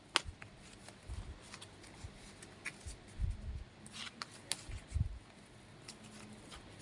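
A deck of cards being shuffled close up, with soft riffles, slides and several sharper taps at irregular intervals against a quiet background.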